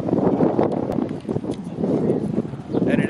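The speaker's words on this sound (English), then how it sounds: "And it is still windy out here." Gusty wind blows outdoors on a family trip in Oregon, buffeting the microphone with a loud, uneven rush that rises and falls in waves.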